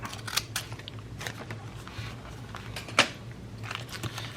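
Scissors snipping through fabric scraps during a quilting project, a series of short, light cuts and crisp clicks spread across the clip, one sharper snip standing out, over a faint steady background hum.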